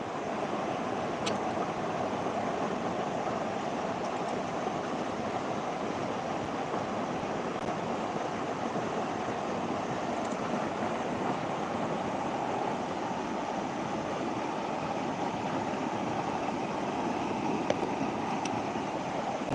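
Rushing floodwater after cloudburst-like rain surges under pressure in a continuous loud roar, steady and close with no breaks and no talk.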